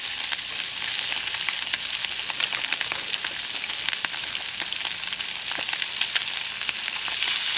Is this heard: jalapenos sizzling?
yes